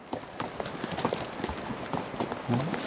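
Hooves of a horse on a pack trip trail clop nearby in a short, uneven run of distinct steps, ending with a faint tonal sound.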